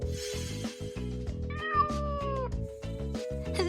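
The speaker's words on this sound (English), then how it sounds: "This is a cat." A cartoon cat meows in a children's learning animation, several drawn-out meows over bouncy background music.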